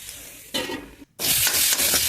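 Spices such as salt, turmeric, chilli powder and coriander powder sauté in a pan, giving short bursts of hissing sizzle and stirring, broken by a brief near-silent gap before a louder, steady fry resumes.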